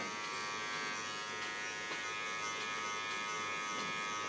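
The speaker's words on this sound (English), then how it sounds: "And the contour I do with a small clipper" A small Kiona electric hair clipper trims hairline contours, giving a steady close buzz that runs unbroken throughout with no talking.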